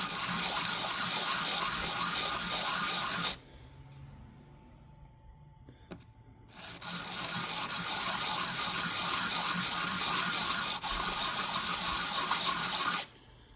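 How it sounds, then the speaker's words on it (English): Sanding a Morgan silver dollar coin ring by hand makes a loud, close, steady abrasive hiss in two long stretches, separated by a few seconds of near quiet. "So I'll take it and sand this side down and get any of the nicks and burrs and scratches off of it."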